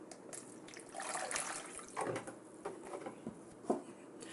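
Distilled water poured into a container, a soft splashing trickle in a few uneven bursts, close and fairly quiet, with no voices.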